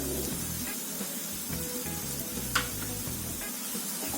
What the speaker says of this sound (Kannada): ಅರ್ಧ ಕಪ್ ಮೊಸರನ್ನ ಆಡ್ ಮಾಡ್ಕೊತಾ ಇದ್ದೀನಿ.